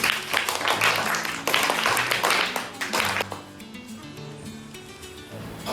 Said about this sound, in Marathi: चला टाळ्या सर्वांसाठी.